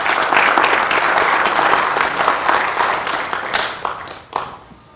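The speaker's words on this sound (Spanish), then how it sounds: "licenciado Josué Tinoco Amador Rafael, para quien pido un aplauso cordial" An audience at a conference on 160 years of the Passion in Iztapalapa breaks into sustained, loud applause that holds steady and then fades out over the last second.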